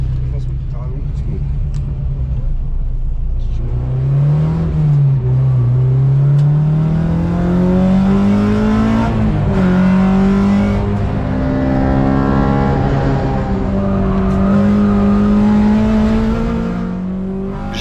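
Lightened track-day car accelerating on the Magny-Cours circuit, its engine climbing through repeated rising rev sweeps between gear changes, close and loud, with a voice talking over it.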